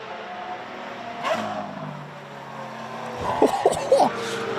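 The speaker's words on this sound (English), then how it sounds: "The noise of that downshift, that Lamborghini, that was ridiculous" A Lamborghini downshifts on a race track at a track-day event. The engine note falls from mid distance, then sharp crackling blips and pops burst out near the end.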